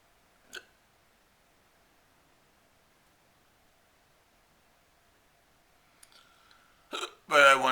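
A person with a hernia gives one sharp hiccup near the start, followed by a long near-silent stretch with faint clicks and a brief voice at the end.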